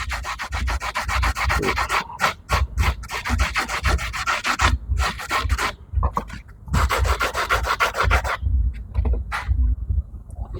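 Sandpaper scrubs rhythmically and briskly against a hard plastic piece, smoothing file and saw marks, close and loud, in several long bursts with brief breaks.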